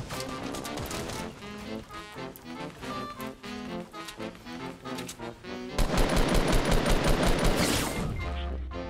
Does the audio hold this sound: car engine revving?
no